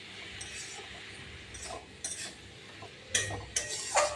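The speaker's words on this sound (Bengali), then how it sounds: "দিয়ে এবার নেড়ে চেড়ে আরেকটু ঢেকে দেবো" Cabbage with fish roe and chillies is stirred in a pan, giving soft scraping and a few sharp metallic clinks of a utensil against the pan over a faint low sizzle, close and fairly quiet.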